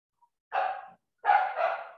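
A dog inside a house barks twice, two full, fairly loud barks about a second apart, clear against otherwise silent surroundings.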